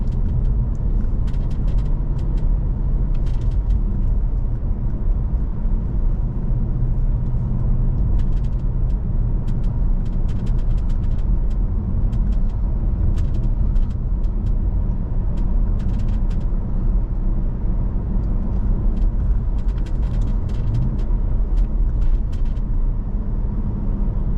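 A 2007 Audi RS4 Avant B7 engine idles while warming up, a constant low rumble heard close and steady throughout, with faint intermittent ticks and clicks over the top.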